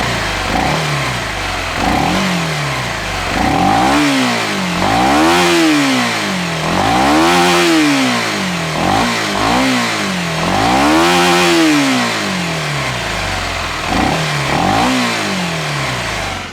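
A Kawasaki Z 250 SL motorcycle engine revs up and falls back in a steady series of loud, close throttle blips over a running idle, with no voices.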